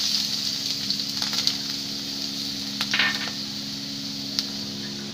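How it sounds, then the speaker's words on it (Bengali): Chopped onion sizzles in about three tablespoons of hot oil in a pan, a steady bright hiss with a few louder crackling spurts. No voices are heard over it. "3 টেবিল চামচ তেল দিয়ে পেঁয়াজটা দিয়ে দিচ্ছি"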